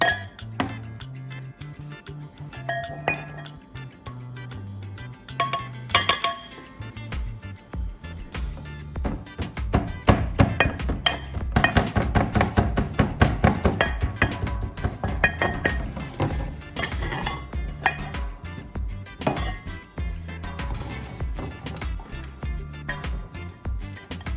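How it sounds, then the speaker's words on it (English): Dried toilet paper being ground in a mortar, with clinking and scraping of the pestle against the hard bowl, sparse taps at first that build into dense, steady grinding strokes, close and fairly loud with no speech. "I'm going to use a mortar to grind it into a finer."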